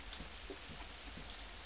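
Steady rain in Little Big Adventure 2 makes a soft, continuous hiss with faint patters of drops, fairly quiet and unbroken throughout, with no voices.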